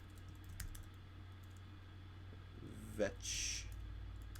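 Soft keyboard typing on a computer, entering a search, sounds as faint quick clicks near the start, followed by a short spoken word and a few brief noises.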